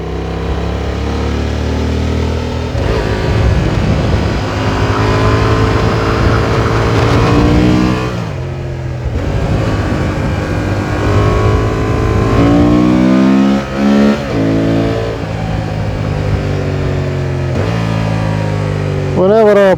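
A Honda Transalp 750 motorcycle ridden through twisty roads on a sunny, mild winter day: a loud, continuous engine drone that repeatedly revs up and eases off through the bends, with rushing wind throughout.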